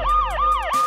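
An ambulance siren wails in a repeating rising-and-falling cycle, three sweeps in quick succession, loud and close with a faint rumble of traffic beneath.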